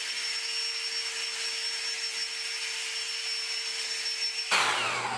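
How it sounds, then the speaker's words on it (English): A small hair dryer blows sanding dust off an old painting, a steady whirring hiss with a high motor whine that holds evenly, then shifts abruptly near the end as the airflow changes, with no talking. "After I sandpaper, I like to use a little hair dryer."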